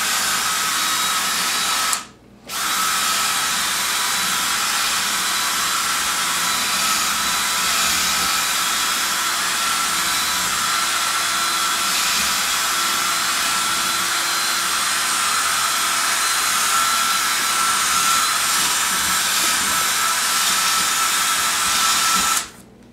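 A drill with sandpaper wrapped around a bit spins continuously with a high, steady whir, briefly stopping once near the start, then running on for a long stretch, abrading dried epoxy inside a golf club.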